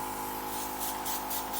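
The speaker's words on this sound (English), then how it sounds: "back bubble, and mix, spray a tissue, and then spray" A steady, fine hiss of a Dinair makeup airbrush spraying continuously, soft and close, with faint pulsing toward the end.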